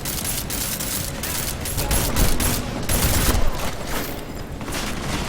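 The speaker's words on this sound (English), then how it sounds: "Lay down for the cover fire!" Sustained covering gunfire in Deus Ex: Mankind Divided, a rapid, loud burst of automatic shots stacking into a dense fusillade for several seconds, with heavy low rumble beneath.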